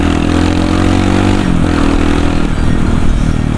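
A KLX motorcycle engine drones loudly and close up while riding on a quiet road, a steady rumbling note that shifts pitch partway through as the throttle changes, with no talking.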